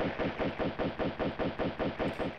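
Rapid gunfire from a weapon in Tomb Raider II, about eleven evenly spaced loud shots in quick succession, with no voices.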